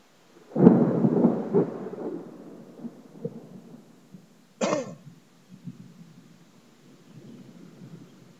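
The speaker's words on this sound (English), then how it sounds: "we're getting ready to have a pretty nice thunderstorm here today" A rumble of thunder from an approaching thunderstorm rolls in close, with a strong burst followed by a slow fade, and a sharper crack later on. No one speaks.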